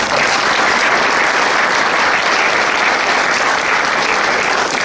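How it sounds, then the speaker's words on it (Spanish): An audience applauds at a book presentation event: dense, steady clapping fills the room at full volume from start to finish, with no pauses. "Un aplauso."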